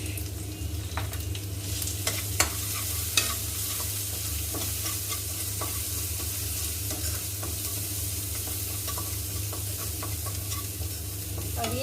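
Spices including garam masala, coriander powder and red chilli sizzling in a pan while being stirred, a continuous close hiss broken by occasional scrapes and knocks of the spoon.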